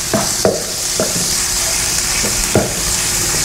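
Ground pork giniling frying and being stirred in a pan: a constant close, loud sizzle broken by several sharp scraping and clacking strokes of the spatula.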